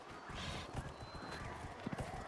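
Horse hooves clip-clopping at a gallop in the video game Dragon Age Inquisition, with a whinny, heard fairly quietly with game ambience and no clear talk.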